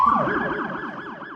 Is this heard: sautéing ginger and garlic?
no